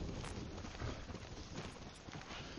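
Horse hooves clip-clop on the ground in Ghost of Tsushima, a steady near trotting rhythm of soft thuds set against a dense wash of ambient game noise, with no talk over it.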